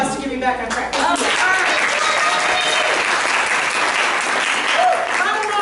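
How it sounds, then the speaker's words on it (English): A seminar audience breaks into a steady, full round of applause, many hands clapping together at close range for several seconds without a break. "I need a round of applause to get me back on track."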